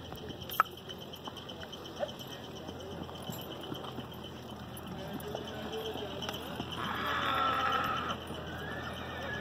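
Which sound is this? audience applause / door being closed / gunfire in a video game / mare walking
mare walking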